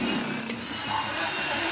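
Firefighters in Zapopan drill through several centimetres of concrete floor with a power drill to free a trapped puppy, giving a steady, unbroken grinding drone with a whining tonal edge.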